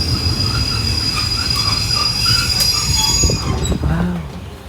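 Thai ordinary passenger train 254, running Lang Suan to Thonburi, pulling into Nakhon Pathom station: loud continuous rumble with high wheel squeal and screeching brakes as it slows, heard from on board, with no voices.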